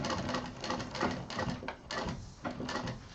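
A sewing machine stitches through thick layers of a handmade baby backpack in short, heavy, uneven bursts of thumping clatter, close up, with brief pauses between runs and no talking.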